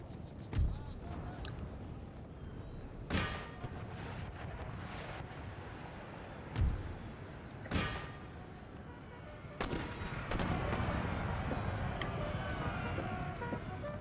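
Musket volleys ripple along an infantry line in an Empire: Total War battle: a few sharp broadband cracks spaced seconds apart over a steady rumbling, windy battle bed, ending in denser sustained firing.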